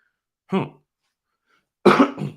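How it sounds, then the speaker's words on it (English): Two separate coughs from a man with a lingering cough, the first short and the second louder and longer, with a pause of silence between them, close to the listener. "Still dealing with that cough."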